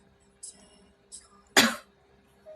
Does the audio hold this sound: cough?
yes